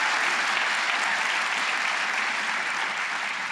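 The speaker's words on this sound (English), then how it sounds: "Give yourself a round of applause." A sold-out crowd of about 1,550 people at an evening event applauds itself, a dense, steady, even wash of clapping that stays loud and unbroken throughout, with no distinct voices.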